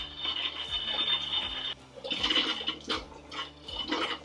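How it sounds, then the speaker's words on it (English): Antifreeze fluid sputtering and gushing from a faucet in a Tiffin Wayfarer RV during winterization, a close, uneven watery rush with a brief pause before the flow resumes. "We want to get it pumping until it's a nice steady stream."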